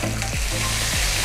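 Butter sizzling steadily in a hot frying pan, a close, continuous crackling fry with a couple of soft scraping stirs, for a lemon butter salmon dish.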